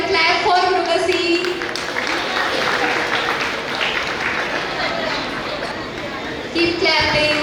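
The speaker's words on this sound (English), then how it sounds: "Clap for Mrugasi." An audience at a school gathering claps steadily for a student being felicitated on stage, a loud, sustained wash of applause with crowd chatter mixed in throughout.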